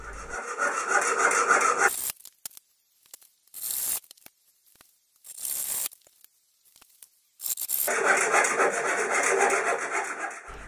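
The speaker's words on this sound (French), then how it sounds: "j'ai coupé à la bonne longueur à l'aide d'une scie japonaise" A Japanese pull saw cuts beech dowel to length, giving rapid, close rasping strokes in two sustained bursts at the start and end, with short scraping pauses in between.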